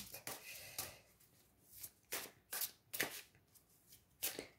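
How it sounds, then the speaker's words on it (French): Playing cards shuffled and handled near the mic, a series of crisp riffling bursts and soft slaps in irregular clusters over about four seconds, with faint background noise between them. "je vais profiter pour remettre des cartes"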